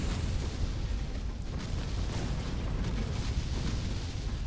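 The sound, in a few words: explosion of enemy hit by high explosive rounds, video game Ancient Space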